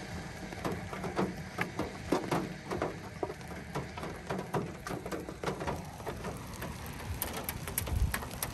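Heavy monsoon rain in a thunderstorm, a dense, steady roar of downpour with sharp droplet spatters hitting a surface and a low rumble near the end, loud and continuous with no talking.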